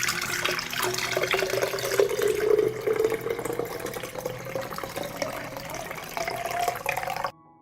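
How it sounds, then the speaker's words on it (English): Cooled water that has steeped with eggshells is strained and poured, a steady close trickle and splash lasting several seconds before stopping abruptly. "we will strain the water, which has cooled"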